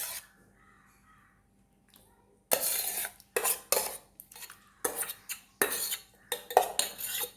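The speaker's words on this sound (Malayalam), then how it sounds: "എന്നിട്ട് നല്ലോണം ഇളക്കുക." A spoon stirring pineapple into sago payasam in a pot makes repeated loud clinks and scrapes in bursts after a quiet start, with a crow cawing faintly in the background.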